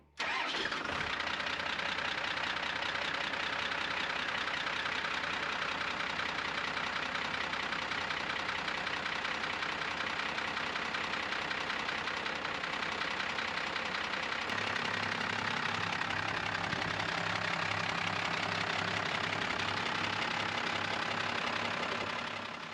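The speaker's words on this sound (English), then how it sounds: "I wanna see how hard it starts on a halfway cold morning." A truck engine left sitting overnight is started on a cold morning, cranking and catching, then running with a rough, knocking idle that carries on continuously, close and loud, with a shift in its note about two-thirds through.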